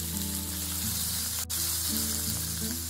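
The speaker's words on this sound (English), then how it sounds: "Into a pan over medium heat, I'm gonna add some olive oil, and I'm just gonna add my steaks and cook those up." Steaks sizzle in olive oil in a pan over medium heat, a steady, close frying hiss with a faint clink partway through and no talking.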